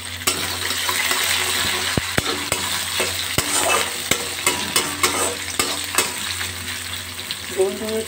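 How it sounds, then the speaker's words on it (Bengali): Gobindobhog rice stir-fried in a pan with spices, giving a steady close sizzle broken by sharp scraping clicks of a spoon against the pan at irregular intervals. "গোবিন্দভোগের চালটা লাল লাল করে ভাজা হবে"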